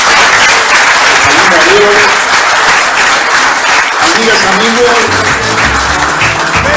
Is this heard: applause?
yes